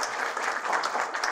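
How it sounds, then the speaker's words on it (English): An audience at a Franklin County Chamber of Commerce breakfast claps for a guest in a brief, dense burst of many hands, steady and fairly loud throughout. "All right, we'll give her a clap."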